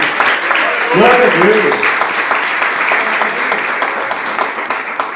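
Church congregation at a family worship service applauding steadily, a dense wash of clapping that holds for several seconds with a voice briefly rising over it near the start.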